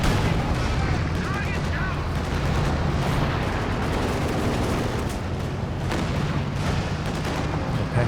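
Heavy artillery fire from a B4 howitzer barrage rumbles through a Company of Heroes 2 battle, a dense continuous wash of booms and gunfire throughout, with a voice talking over it.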